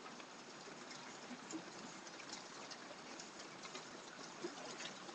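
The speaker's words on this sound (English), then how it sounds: "As you can see the rain there." Steady rain falling outside beside a covered porch, a soft continuous hiss of drops, moderately distant and even throughout, with no talk.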